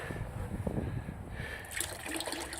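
Water pours and splashes into a container to mix concrete sealer for a patio, a close, irregular trickling and sloshing with a brighter burst near the end.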